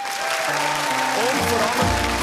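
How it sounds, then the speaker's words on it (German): An audience in a hall for a television cooking-show finale breaks into sustained applause, with a dense wash of clapping while music plays underneath. "Ein Applaus"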